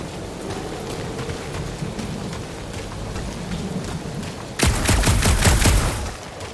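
Heavy rain and a storm in Marvel's Guardians of the Galaxy video game: dense, steady downpour hissing throughout, then a sudden loud rumbling thunder crack near the end, with no talk.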